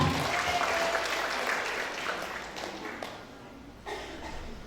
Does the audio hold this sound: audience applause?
yes